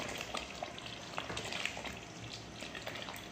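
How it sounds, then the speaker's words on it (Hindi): White mutton gravy seasoned with white pepper and salt being stirred, a continuous soft sizzle and bubbling hiss with faint scraping strokes, fairly quiet and close, no voices. "मिक्स करेंगे इसको अच्छे तरीके से"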